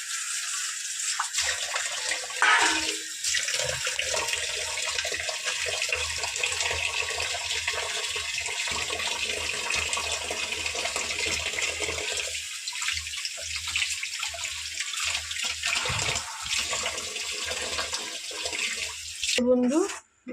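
Running tap water splashes steadily over bottle gourd leaves being washed in a sink, a continuous broadband gush lasting throughout with small shifts as the leaves are moved under the stream.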